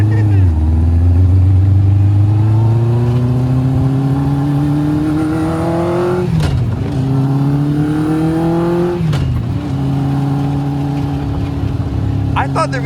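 Caterham Seven kit car powered by a Kawasaki Ninja ZX-9 motorcycle engine, heard from the cabin as a loud, steady engine drone that rises smoothly in pitch through the gears, with two brief shift dips and light talk in the car.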